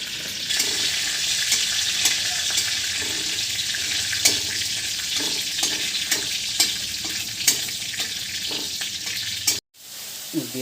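Five-spice seeds and dried red chilies crackle and sizzle in hot oil with a continuous hiss and scattered sharp pops and clinks, then a sudden brief drop to near silence just before the end.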